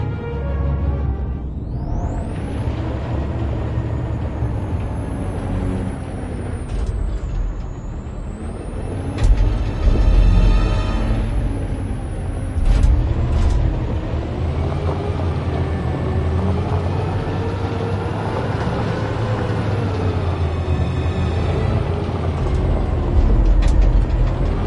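A truck in the video game Detroit: Become Human rumbles along with a heavy low engine drone, a high rising whine and hissing, brake-like bursts, steady and fairly loud throughout.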